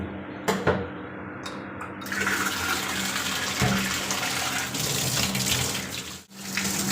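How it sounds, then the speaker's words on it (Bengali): Chicken pieces being washed in hot water: water runs and gushes steadily from a tap with splashing, near and moderately loud, pausing briefly near the end. "চিকেনগুলো দেখো গরম জলে ধুয়ে নিলাম"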